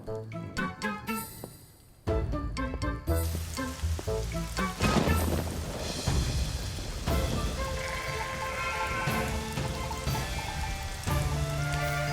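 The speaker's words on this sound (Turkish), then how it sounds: "Yağmur iyice hızlandı." Heavy rain pours down in a steady, loud hiss with dense drops pattering on surfaces, building after a quieter opening of scattered tinkling drips.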